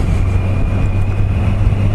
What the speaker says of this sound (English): There's an Akropovich exhaust on this one,